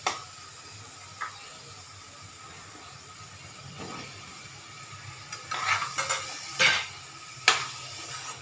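Taro pieces tipped into a pan with prawns, faint frying sizzle under a few sharp clinks and scrapes of a utensil against the pan toward the end.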